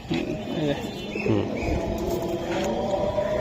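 A silver Giribaz racing pigeon at a bird sale gives a few soft, low coos close by, mixed with brief chirps and a faint voice in the background.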